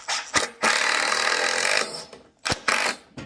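A power driver whirs steadily for over a second as a screw goes into an aquarium stand frame, framed by short sharp clunks and knocks of the wood before and after, close and alone.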